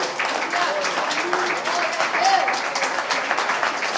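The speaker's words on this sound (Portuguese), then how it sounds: "Vamos dar uma salva de palmas para Jesus?" Applause from a church congregation fills the room, steady clapping mixed with murmuring voices throughout.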